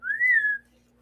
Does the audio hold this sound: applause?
no